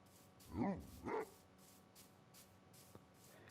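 A dog barking in the Minecraft video game, two short close barks near the start, then quiet game ambience with a faint click.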